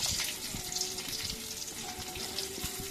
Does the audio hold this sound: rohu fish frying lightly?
yes